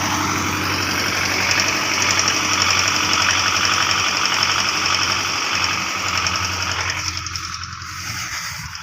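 A Belarus 510 Russian tractor engine running steadily with a throbbing, knocking rumble, loud and close, easing slightly toward the end.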